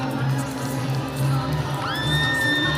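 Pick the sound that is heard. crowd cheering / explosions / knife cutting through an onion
crowd cheering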